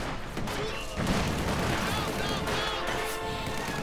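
Gunfire and explosions in a Company of Heroes 2 real-time strategy battle, dense crackling shots and bangs in a busy continuous mix, with a commentator talking over them.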